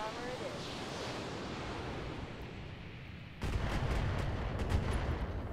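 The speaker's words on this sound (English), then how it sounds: "Try for a back shot and fire." Mech weapons fire booms out in the Roguetech battle game, a sudden loud burst of heavy gunfire cutting in over a steady rushing, wind-like noise and continuing as rumbling blasts.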